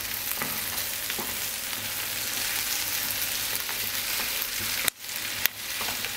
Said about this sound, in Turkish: Şimdi şöyle bir kere daha kızartacağım.